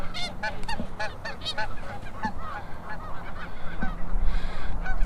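Geese near their nests giving repeated loud honks in a quick burst, then scattered calls, close and outdoors with wind noise.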